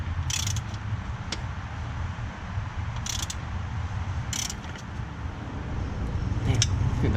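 An Audi A4 driving on a test run after an engine rebuild, with a low engine and road rumble throughout, broken by intermittent clicks and rattles from inside the car.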